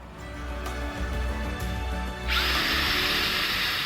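An SDS drill bores into a concrete garage floor, starting with a low chattering hammer and rising into a loud, steady high-pitched grinding whine partway through.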